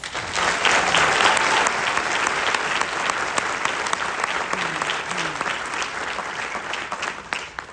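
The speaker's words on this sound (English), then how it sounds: "So give yourselves a round of applause." Newly sworn citizens at a citizenship ceremony in Gwinnett break into loud, sustained applause, many hands clapping together for several seconds before tapering slightly.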